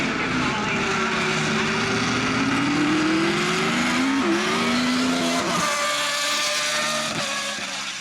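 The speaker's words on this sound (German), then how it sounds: "wie man das erste Mal das Auto so gehört hat" A race car engine tied to motorsport driver Georg Plasa, revving loudly up and down through the gears with rising and falling tones as it passes close, then fades slightly toward the end.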